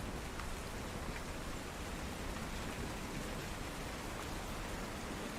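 Steady, dense rain pours across the whole stretch as an ambient storm effect for a tabletop roleplaying scene, an even broadband hiss with no voices over it.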